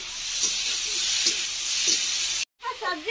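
Potatoes, peas and spices frying in a pan for a spicy aloo gobhi, giving a steady broadband sizzle with faint stirring scrapes, followed by a brief gap and then a short burst of talk.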